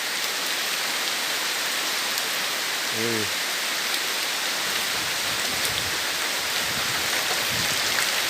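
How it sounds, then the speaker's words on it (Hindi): Heavy rain falls steadily on a Bangladeshi village, a loud, even wash of hiss that stays constant, with a brief voice speaking once about a third of the way through. "हैवी बारिश हो रहा है"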